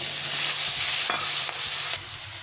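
Potatoes fry in a hot pan for a cabbage and fish-head curry, a steady broadband sizzle with a few scraping stirs of the spatula close by, no talking.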